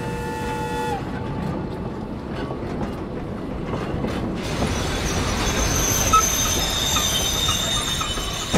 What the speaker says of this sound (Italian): il treno praticamente è già arrivato qua davanti